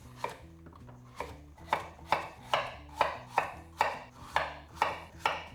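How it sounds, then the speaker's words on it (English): Knife slicing squash into half-moon pieces on a cutting board, a steady run of about a dozen crisp, evenly spaced cuts close up, each a sharp chop against the board, with faint background music underneath and no talking. "And then I'll cut it into these lovely half moon shapes."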